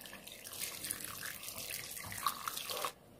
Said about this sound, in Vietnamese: Sau đó thì mình chần nước sôi này